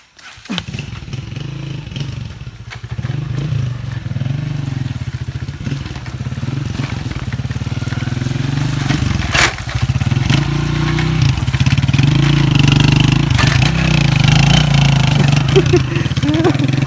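A motorcycle engine runs on a road near a bridge, its steady mid-pitched drone building louder and closer over several seconds, with voices faintly mixed in.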